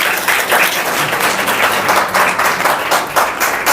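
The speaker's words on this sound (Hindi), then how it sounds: "तालियां बजाओ बहुत बहुत।" An audience at a Sir Syed Day gathering claps enthusiastically, loud continuous applause with slight pulsing swells and no clear speech over it.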